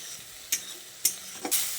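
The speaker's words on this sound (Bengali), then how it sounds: "এখন টমেটো পেস্টটা দিয়ে আরও কিছুক্ষণ একটু টমেটোটাকে ভাজা ভাজা করে নেব" Tomato paste sizzles steadily in a hot pan while a spoon scrapes and stirs it in three quick strokes about half a second apart, close and clear with no talk.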